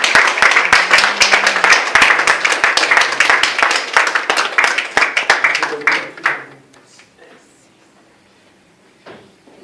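A church congregation applauds with dense, loud clapping for about six seconds, then the clapping dies away into near quiet with a few faint sounds.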